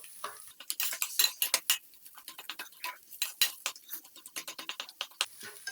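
A spoon stirring and scraping a vegetable chop filling in a bowl with chopped coriander leaves, giving a quick run of close, irregular clinks and taps with no talking.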